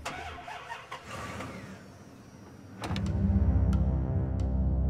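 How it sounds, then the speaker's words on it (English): A boat's outboard motor cranks and catches, then settles into a loud, steady idle; a few sharp clicks and clunks come before it starts, with no talking. "I need to start the motor."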